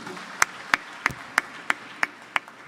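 A church congregation claps in a steady, evenly spaced rhythm, eight sharp claps in quick succession with no talking over them.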